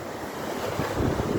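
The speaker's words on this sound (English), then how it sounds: "Listen to the sea." Rough sea surf at Colwyn Bay beach on a rainy, windy day, a continuous roar of breaking waves with heavy wind buffeting the microphone, loud and close.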